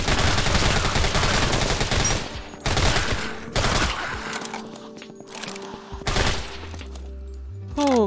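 Rapid bursts of gunfire in the video game Deathly Stillness while the player backs away, loud and dense in the first seconds, then scattered single shots and trailing mechanical sounds, ending in a low droning tone.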